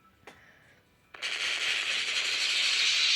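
One sharp crack is followed, after a short pause, by a sustained burst of rapid video game gunfire that keeps going to the end.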